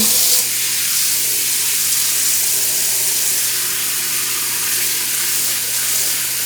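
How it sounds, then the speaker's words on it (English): Water runs from a kitchen tap into a bowl in a steady, loud, continuous stream with a rushing hiss. It starts abruptly and runs on unbroken with no talk. "let's get some water in here"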